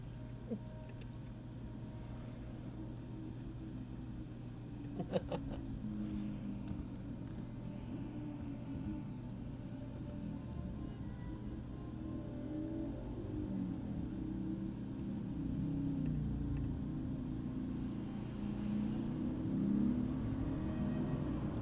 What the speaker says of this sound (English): do apologize for outside noise. That's because I live in the city.